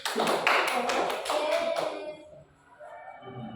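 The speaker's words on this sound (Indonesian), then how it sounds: "Ya, tepuk tangan Mbak Yuni" A class applauds a student in a microteaching lesson, a burst of many quick, close hand claps that fades after about two seconds into quieter room sounds.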